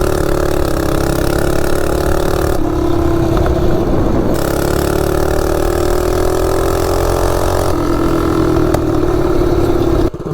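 Baja Warrior minibike engine running up close, a loud, continuous buzzing drone whose pitch dips and rises a few times before cutting off abruptly at the end.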